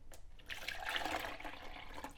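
Lotion water phase poured from a double boiler into a mixing container, a continuous splashing trickle of liquid that builds and holds, fairly quiet and close.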